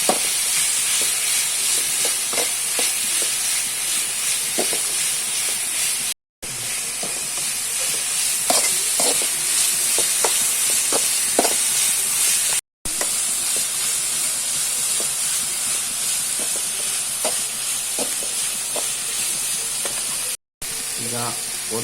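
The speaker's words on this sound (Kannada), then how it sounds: "ಈ ಮೂರನ್ನು ಆ್ಯಡ್ ಮಾಡುವಾಗ ಆ್ಯಡ್ ಮಾಡಿದ ನಂತರ ಅದನ್ನು ಕೂಡ ಒಳ್ಳೆ ಮಾಡಿ ಫ್ರೈ ಮಾಡಲಿಕ್ಕಿದೆ" Tomato, ginger and green chili fry in a pan for a mackerel pulimunchi curry, a steady hissing sizzle with scattered light pops and crackles that runs on for a long stretch.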